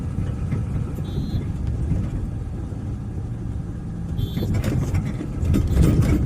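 A car approaching along a rain-damaged, washed-out road, its engine a steady low rumble that swells toward the end, with faint background voices.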